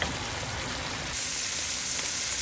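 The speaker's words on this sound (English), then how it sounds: "We're just going to go ahead and finish browning this meat till it's all cooked through." Ground taco meat browning in a pan, giving a steady close sizzle and crackle that grows slightly louder partway through, with no talking.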